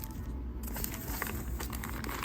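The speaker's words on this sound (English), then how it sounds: "So it's just a plastic bag with rubber bands on the ends." A plastic bag fastened with rubber bands on its ends is handled up close, giving a steady, continuous crinkling and rustling that runs through the whole moment with no talk over it.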